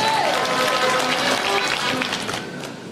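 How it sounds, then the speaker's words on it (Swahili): A crowd at a Murang'a County empowerment event for boda boda riders and women's groups applauds a senator with continuous, dense clapping that holds loud and steady, then eases slightly near the end. "apigwe makofi"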